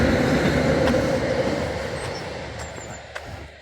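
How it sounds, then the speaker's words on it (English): A train passes on the Midland railway line near the former Ecclesfield East station, a steady, close rumble of wheels and carriages that slowly eases, with faint metallic squeals near the end and no voices. "a train on the neighbouring Midland line does as well."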